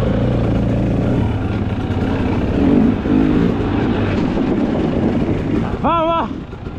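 Enduro motorcycle puttering along in second gear through a forest, a steady low engine drone throughout, closely miked, with a brief rising whine near the end.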